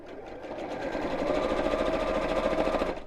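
A sewing machine stitches an appliqué Christmas tree onto a cushion cover, giving a close, steady rapid whirr that builds briefly at the start and runs evenly for about three seconds before stopping, with no talking.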